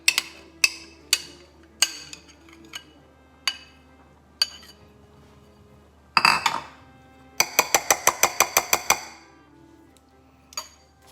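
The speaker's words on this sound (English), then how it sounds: "I'm going to now mix this in." A spoon knocks and clinks against a bowl while mixing potato salad with bacon, scattered single taps followed by a quick rhythmic run of scraping clinks.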